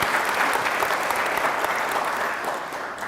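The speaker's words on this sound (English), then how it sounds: "That deserves a round of applause." Festival audience at the National Book Awards breaks into warm applause, a full, continuous roar of clapping from a seated crowd that eases off slightly toward the end.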